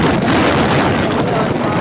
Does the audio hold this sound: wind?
yes